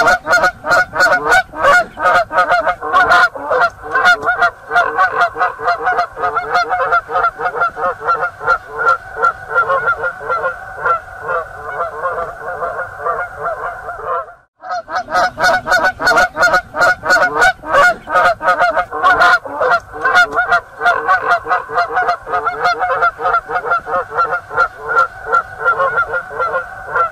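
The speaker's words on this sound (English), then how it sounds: "Goose." Loud, repeated goose honks in a continuous stuttering stream, close by, with a brief pause midway before the honking resumes.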